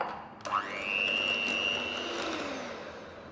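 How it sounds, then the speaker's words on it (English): An electric mixer whips vegan cream cheese until smooth: a motor whir ramps up sharply, holds a steady hum, then gradually winds down, moderately quiet. "Now we're going to whip this until it's nice and smooth."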